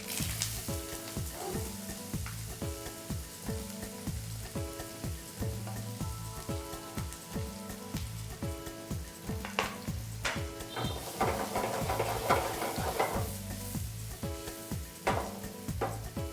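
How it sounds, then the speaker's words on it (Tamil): Onions deep fry with curry leaves and green chillies, giving a steady close sizzle and bubbling, broken by repeated rhythmic scraping and stirring strokes throughout, with no voices. "ஆனியன் நல்லா டீப்பாக ஃப்ரை ஆகணும்."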